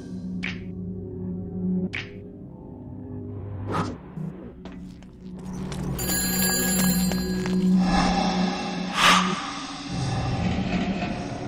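A telephone rings in Shadows of the Damned, sharp repeated electronic trills against a droning low background and clanking noises, fairly loud and near.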